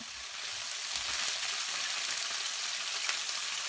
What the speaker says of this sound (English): With 2 tablespoons of oil, I start to fry the tofu.